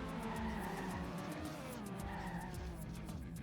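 Racing car engine in TrackMania United Forever drones loudly and steadily with wavering revs, while tires skid and squeal along the track throughout.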